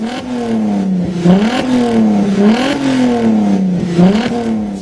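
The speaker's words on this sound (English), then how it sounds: "the engine sound structure is emitted almost unfiltered" A loud sports car engine revs up and down repeatedly through a Capristo exhaust system, its deep harmonic roar rising and falling in pitch without pause.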